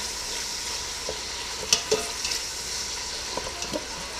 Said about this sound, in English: I am now cooking the bacon